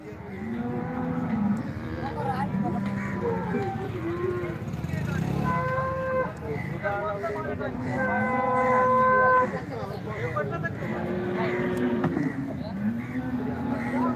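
HF cows at a crowded cattle market in Loni moo repeatedly with long, loud, drawn-out calls. Several animals sound at once over general market noise, and people talk nearby.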